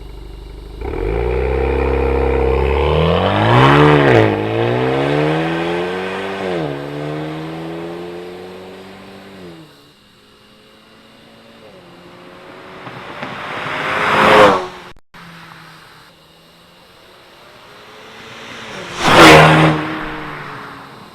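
A 2018-or-later Honda Accord fitted with a Borla exhaust pulls away, its engine note rising through the gears before fading, then comes back in two loud passes that swell and drop sharply, with no talking.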